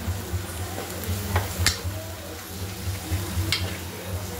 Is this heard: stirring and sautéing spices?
yes